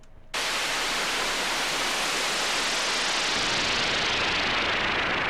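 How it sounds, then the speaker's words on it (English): White noise patch from an UNO Synth with modulated pitch or filter, a steady broadband hiss that snaps in abruptly after a brief quiet start and holds loud and unbroken throughout. "It's just it's a white noise with some modulated pitch, I believe, or that might be the filter."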